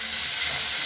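Chopped tomatoes fry in a pan for an egg tadka, a steady loud hiss of sizzling with no pauses, close and alone.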